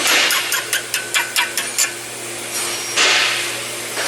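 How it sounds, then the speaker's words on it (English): Small hammer tapping a pin into a Brembo brake caliper on a Genesis G70, about nine quick sharp metallic taps in a steady rhythm, close and clear, then a pause before a final soft knock. "So now, I'm gonna use a small hammer."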